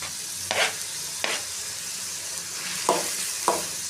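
Onions frying with ginger garlic paste for egg masala, a soft steady sizzle punctuated by four brief scraping stirs of a spoon against the pan, fairly quiet and close.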